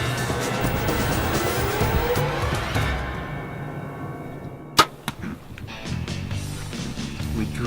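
A bow-hunting arrow strikes a wildebeest in the field: one sharp, brief crack stands out partway through, followed by a smaller knock, over steady outdoor ambience that grows quieter in the second half.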